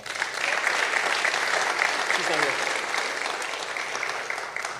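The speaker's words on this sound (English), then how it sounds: "a big round of applause for our final monetary award recipients" Audience applause for scholarship recipients at a high school senior scholarship ceremony, dense sustained clapping from a large crowd filling the hall, steady and fairly loud throughout.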